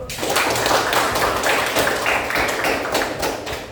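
A group of children clapping their hands in a classroom or lesson setting, quick uneven patter of many palms close by, fairly loud and continuous with no talking over it.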